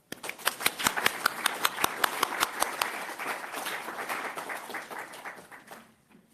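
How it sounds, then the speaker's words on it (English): An audience applauds the organizers of an evening panel on sculptor Edmonia Lewis: a few distinct claps build into a dense wash of clapping that carries on steadily, then fades out near the end. "I want to have a round of applause for the organizers of tonight's panel, Vivian Sming and Kwang Mi-ro."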